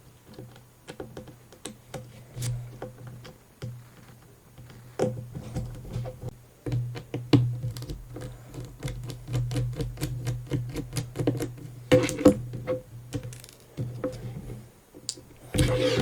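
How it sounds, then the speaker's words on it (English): Small 00 Phillips screws being backed out of a Samsung Galaxy S4 phone with a precision screwdriver: a steady run of faint, rapid clicks and ticks close up, with no talking. "So let's just remove those screws first."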